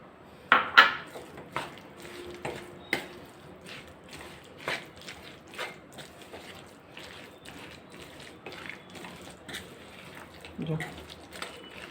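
Coconut jaggery ladoo mixture with dry fruits being stirred in a pot, giving scattered clinks and scrapes of a spoon against metal, a few sharper knocks early on, then softer irregular stirring sounds throughout.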